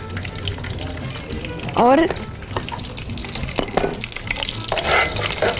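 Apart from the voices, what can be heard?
spices frying for fish korma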